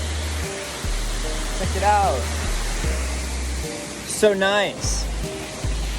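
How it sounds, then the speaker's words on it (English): Wagner Falls at Pictured Rocks rushes with steady, dense broadband noise throughout, close and loud, while people talk briefly over it. "So we're at another waterfall now."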